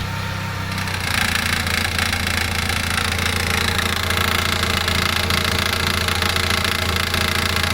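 A 2003–2004 Mitsubishi Outlander engine idles with a steady, loud low drone and broad vibration, starting softer and swelling after about a second, then holding constant throughout.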